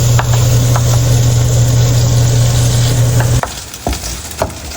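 Steady sizzle of bacon frying in a pan with a low hum underneath, then the hum stops as the heat is turned off and a few scraping clinks of a utensil in the pan follow.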